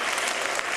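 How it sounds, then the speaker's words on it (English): A short, full burst of applause from a school chapel audience for a young kindergarten helper, steady and close for under a second with no voices. "Give her a round of applause."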